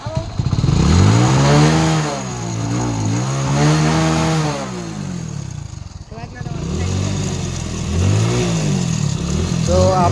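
A motorcycle being washed has its engine revved through the exhaust, loud and close, the pitch swinging up and down through several rising and falling revs.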